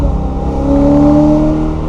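A supercharged BMW E92 M3 with a DCT gearbox revs hard, its engine note climbing in pitch and swelling loud and close before easing slightly at the end.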